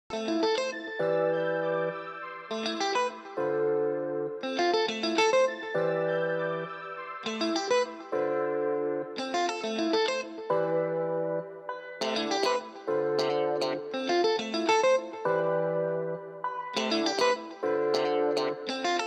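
A looping Afrobeat music sample exported from FL Studio plays with layered synth tones, a repeating melodic phrase, and effects-heavy chorus and distortion, steady and clear without talk.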